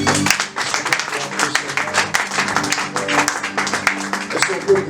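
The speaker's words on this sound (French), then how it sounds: "Si on peut faire bonne acclamation, Seigneur" A church congregation applauds and cheers during a gospel service, with dense continuous clapping mixed with voices.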